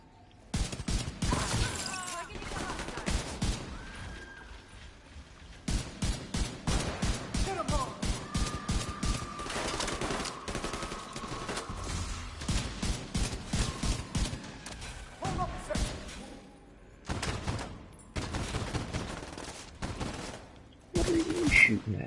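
Video game gunfire crackles in rapid runs of sharp shots, broken by short pauses and occasional crashes, with faint voices now and then over the din.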